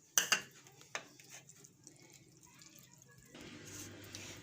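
Water squeezed out of grated radish into a vessel, with a few faint, sharp drips and splashes early on, then quiet trickling fading into soft background noise.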